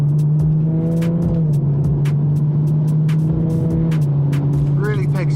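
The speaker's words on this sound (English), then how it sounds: "engine sounds great. These N55s, really the M235i is basically just the old M2" The N55 engine of a stage 2 tuned BMW M235i with about 400 hp drones steadily under load and then rises in pitch as it accelerates. It is loud and close, with brief voices and road noise.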